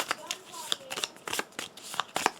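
A deck of cards is shuffled in quick riffling bursts during a Legendary Big Trouble card game, several crisp flurries of flicking cards close to the mic, with a faint voice now and then.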